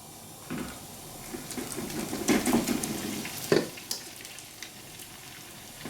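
Seafood pancake batter fries in an oiled pan, a soft continuous sizzle with a few louder scraping and spreading noises as it is shaped, close but fairly quiet with no talking.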